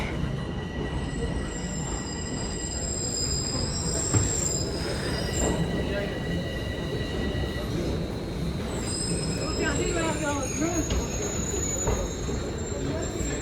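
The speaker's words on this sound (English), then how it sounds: "The northbound train's about to pull in here." A Toronto TTC subway train rolls into Eglinton Station with loud, sustained wheel squeals and high metallic screeching over a deep rumble, echoing through the station.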